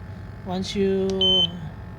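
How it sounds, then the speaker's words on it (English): A GX-8000 gas detector gives one short, thin alarm beep during its alarm check, brief and moderately loud beneath a man's speech. "select this option, it will give you the alarm"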